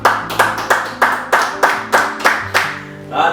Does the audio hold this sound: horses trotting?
no